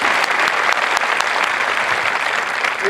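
A crowd at an Air Force Basic Military Training parade claps enthusiastically for veterans in a continuous, even wave of applause, loud and full for the whole stretch.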